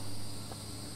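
Honey bees buzz continuously at the hive entrance, a dense, steady droning hum that stays close and fairly loud throughout with no voices over it.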